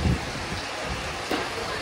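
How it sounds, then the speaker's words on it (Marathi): Heavy rain pouring steadily outdoors, a dense even hiss of falling water with a low rumble and a few louder bumps, close and continuous with no talk. "खूप पाऊस आहे, त्याच्यामुळे आम्ही थांबलो इकडे"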